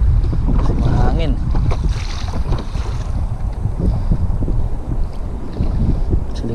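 Steady, heavy wind buffets the microphone with a low roar while kayaking, mixed with splashing water, continuous throughout.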